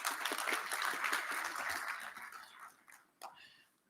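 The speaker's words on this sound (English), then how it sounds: "Shall we encourage him with a round of applause?" A conference audience at a basic education sector gathering gives a quiet, moderately distant round of applause that tapers off and fades out in scattered claps by the end.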